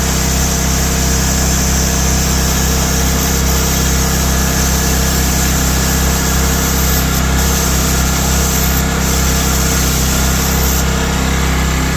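An old generator engine runs steadily after an extreme cold start, a loud, constant droning hum with a strong low throb and a buzzing mechanical whine heard alone throughout.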